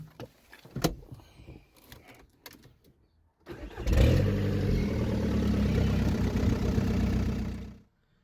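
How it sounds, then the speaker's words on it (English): A VW MK4 Bora started for the first time with no oil: after some faint clicks and knocks, the starter cranks and the engine catches, running loud and rough for about four seconds before abruptly cutting off. "I also even got a video of me starting up the car for the first time without oil."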